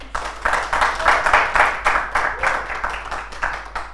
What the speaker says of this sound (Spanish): Y ahora sí les pido otro aplauso a José Bengoa